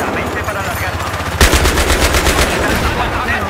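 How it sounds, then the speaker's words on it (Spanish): Rapid automatic gunfire in the Battlefield 3 video game, loud and close, with a sharp burst of bullets starting partway in and continuing in quick repeated shots over a dense noisy background. "Solo estoy disparando y ya,"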